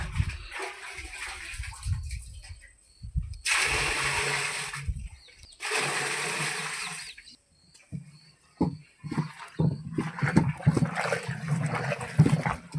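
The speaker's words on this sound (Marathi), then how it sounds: "आता आपण ह्यात 20-20 लिटर पाणी ॲड करत जाणार आहे" Water poured by the bucketful into a 100-litre amino acid mixture for farm use, two loud sustained splashing pours of about two seconds each, separated by a pause and followed by stirring and handling noises.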